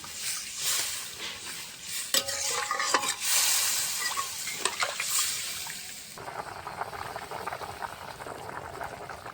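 Fish curry with potatoes boils in a pot, a steady bubbling simmer with occasional stirring and utensil clinks throughout, fairly quiet and close.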